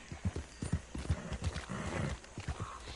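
Steady clip-clop of horse hooves in a video game, a quick repeated rhythm of hoofbeats at moderate distance, with a faint whinny and soft background sounds.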